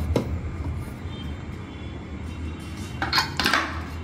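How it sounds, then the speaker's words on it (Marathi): A metal container is set down inside a pressure cooker holding water and modaks, giving a couple of close clinks and knocks near the end after quieter kitchen handling. "त्याच्यामध्ये आता हे मोदक ठेवते। त्याच्यावरती आता हा दुसरा डबा ठेवते।"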